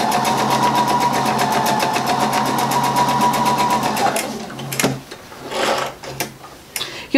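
A sewing machine stitches quilt pieces for a mini spool quilt in quick, even bursts of loud rattling needle strokes, then stops into a few scattered clicks and handling noises.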